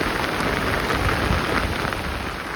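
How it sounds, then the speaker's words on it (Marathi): Heavy, sudden rain pours down steadily in a dense, loud patter of large drops striking a surface, with no speech. "हे बघा पाऊस मोठालं टिपक आहेत"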